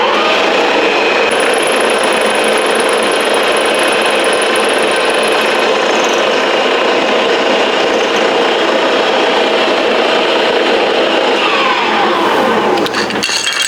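Carbide tooling cuts into a metal part of a Beverly No. 3 metal shear, a loud, continuous machining grind that stays dense and unbroken throughout, with a thin high whine above it for a while.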